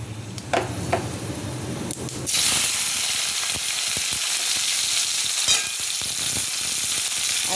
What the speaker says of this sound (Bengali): এবার এর মধ্যে আমি টমেটোটা দিয়ে দেবো